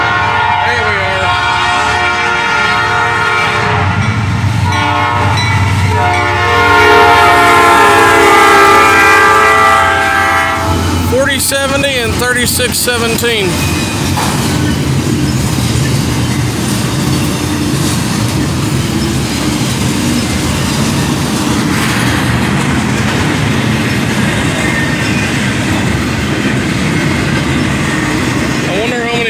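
An eastbound Norfolk Southern freight train at Amity Street in Homestead, Pennsylvania, blasts a loud, sustained multi-tone horn for about ten seconds, followed by the steady rumble and rolling clatter of cars passing close by, with brief wheel squeals.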